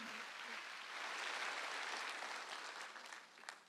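A church congregation clapping during a sermon, a dense, even wash of many hands heard faintly at a distance, steady throughout with a slight swell in the middle.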